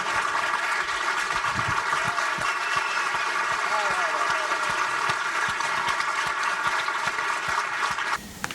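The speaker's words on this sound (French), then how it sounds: "Posez les portables et applaudissez." Festival audience applauding Matt Damon at the Cannes Film Festival, a dense continuous wash of clapping from a large crowd with a voice speaking over it throughout, cutting off near the end.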